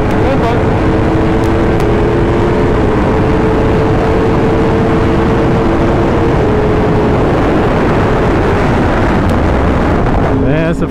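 A Yamaha R1 and a BMW S1000RR race at high speed, heard as a loud sustained engine drone heavily buffeted by wind noise, with a rising note near the end.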